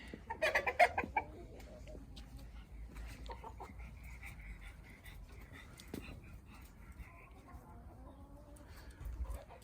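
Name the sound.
chickens clucking near mobile chicken coop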